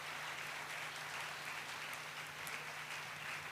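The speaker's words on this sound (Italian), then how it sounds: "Facciamo un applauso." Theatre audience at the Teatro Malibran in Venice applauding during a song festival, an even, continuous ripple of clapping from a large crowd with a faint low hum beneath.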